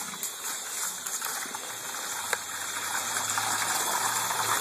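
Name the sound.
hot water running from a tap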